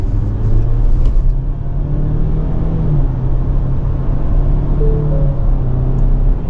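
A 2024 Ford Ranger XLT 4x4 midsize pickup pulls away and drives off, its engine a steady close rumble that rises in pitch as it accelerates, with constant road and tyre noise beneath and no talking.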